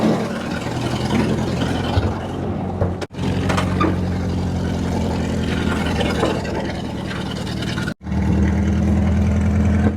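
A 1939 Buick car engine runs steadily in gear with a loud, continuous low drone, cutting out abruptly twice for a split second before resuming.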